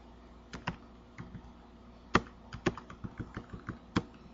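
Typing on a computer keyboard, a sparse, uneven run of close key taps with a few sharper strokes, quiet and alone.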